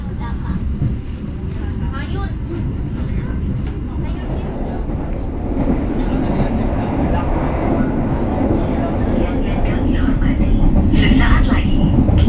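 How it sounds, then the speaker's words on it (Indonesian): The Bengawan passenger train pulls out of Purwosari station in Solo at night, a steady, loud rumble of wheels and carriage noise that swells gradually, with indistinct voices faintly mixed in. "Kereta api Bengawan diberangkatkan dari stasiun Purwosari Kota Solo"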